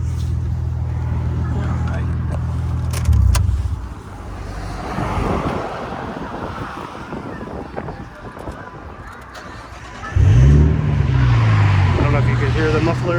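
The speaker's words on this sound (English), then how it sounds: "Hear the muffler." Nissan R34 Skyline GTT sedan with high mileage, engine running and muffler exhaust rumbling close by, with revs rising in two bursts amid wind noise and talking.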